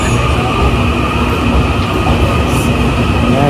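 A train at a station in Taichung, Taiwan, roars loud and close with continuous rumbling wheels, a steady mechanical hum and a high whine running throughout.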